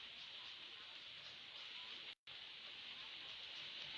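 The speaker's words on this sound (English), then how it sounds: "in the conservatory it always sounds like you're outside when it's raining" Steady rain falls on a conservatory roof, a constant soft hiss that fills the space, broken by one short dropout partway through.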